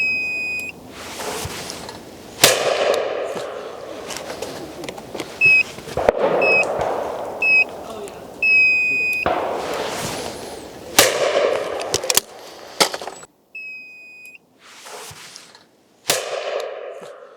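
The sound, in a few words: shotgun shots from MK38 30-inch Sporter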